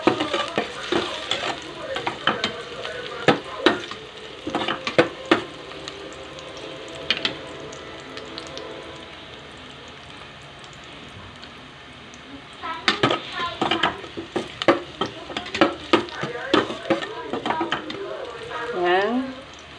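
Onions are sautéed in a pan for Filipino-style ramen, with scattered sizzling and repeated scraping and stirring clatter in bursts, quieter in the middle stretch, and occasional background sounds.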